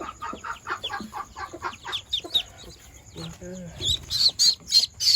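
High, thin peeping calls from sixteen ducklings repeat in quick bursts, growing busier toward the end, with a low voice briefly murmuring in the background.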